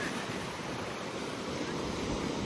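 Large ocean waves break and roar along a beach on the Central Coast, a loud continuous wash of surf mixed with wind buffeting the microphone.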